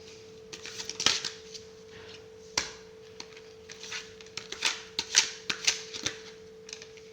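Tarot cards being shuffled by hand in a quiet room: a string of soft, papery riffling bursts and light flicks, close and fairly faint, with a steady low hum underneath.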